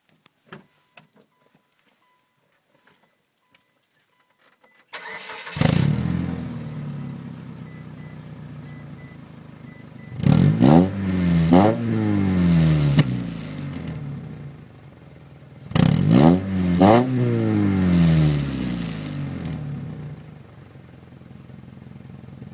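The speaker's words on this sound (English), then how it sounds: "And I'll start it up while you guys hear it." A 2004 Mitsubishi Outlander fitted with a DC Sports exhaust tip cranks and starts after a quiet pause, settles into a steady idle, then gives two loud revs that rise and fall before idling again.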